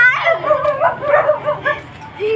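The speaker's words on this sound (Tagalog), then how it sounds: "Sige, may aso." A dog on a roadside in Barangay Capre gives a series of short, close yips and whimpering barks, several bursts in quick succession with a voice speaking briefly nearby.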